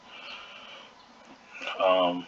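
Loud, strained yelling from a few voices, rising at the end into a harsh, sustained scream that stays in the foreground.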